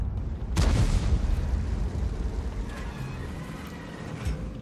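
A tank shell from a heavy self-propelled gun bursts in a tank battle video game, one loud booming blast followed by a rumbling decay and faint background game noise.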